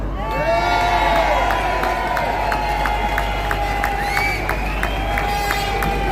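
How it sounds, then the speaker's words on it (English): Crowd at an outdoor rally cheering and applauding for a speaker, loud and close, with whoops and shouts, voices rising and falling over dense clapping. "Come on, big round of applause for Kathy."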